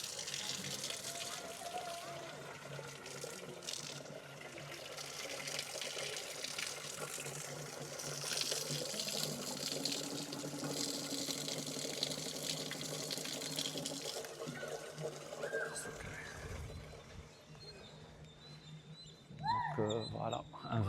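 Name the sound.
water running at a washing place by an Indian temple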